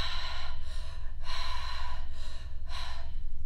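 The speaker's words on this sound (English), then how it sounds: "So this is conscious, connected, circular breathing." Deep conscious connected circular breathing: about four loud, rhythmic breath cycles with strong airy inhales and exhales, close to the mic and without pauses between them.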